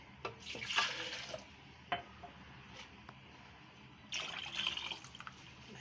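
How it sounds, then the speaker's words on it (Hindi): A glass of water is poured into a cooking chicken curry in a pot, giving soft splashing bursts and trickles, with a longer pour toward the end, faint and close. "इसके अंदर 1 गिलास और पानी शामिल करूँगी मैं।"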